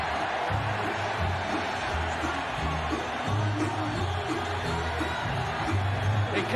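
A rugby league stadium crowd at a 1996 Auckland Warriors versus Parramatta Eels match roars steadily, broad cheering and whoops forming a loud, sustained wash with faint talk beneath.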